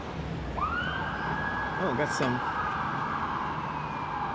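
Police and ambulance sirens wail steadily along Broadway in New York City street traffic, a sustained rising tone over city noise, with a brief exclamation from a voice.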